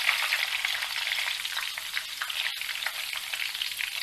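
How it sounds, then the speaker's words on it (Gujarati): Moong dal frying in oil over a low flame, stirred with a spoon, for spicy chavanu: a steady, even hiss of sizzling that stays fairly soft and close throughout, with no voices. "લગભગ 2 જ મિનિટમાં મગ જુઓ સરસ તળાઈ ગયા છે"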